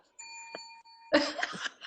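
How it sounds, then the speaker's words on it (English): A small handheld bell rings with a clear sustained tone, then a burst of laughter and voices cuts in over its fading ring. "I love the bell. Right? I found this bell."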